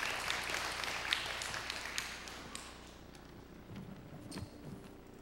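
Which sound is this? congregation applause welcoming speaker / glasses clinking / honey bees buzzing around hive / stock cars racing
congregation applause welcoming speaker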